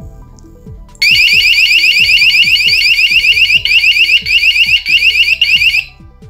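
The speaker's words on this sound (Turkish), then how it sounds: "şu anda alarm hala aktif durumda." A keypad-coded door alarm beeps loudly and piercingly in rapid repeating pulses for several seconds, with faint clicks underneath, then cuts off abruptly.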